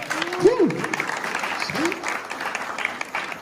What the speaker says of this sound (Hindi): अगर ठीक लगे तो ताली बजाना